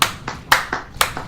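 A slow, deliberate single-person hand clap, six claps in about a second and a half, crisp and close with an uneven alternating strong-weak rhythm.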